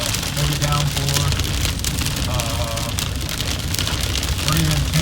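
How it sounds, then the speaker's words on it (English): Heavy rain pours down on a country road during a thunderstorm, a steady loud hiss of drops on the surface with a vehicle's engine underneath and some voice-like sounds mixed in. "Wow, what a downpour."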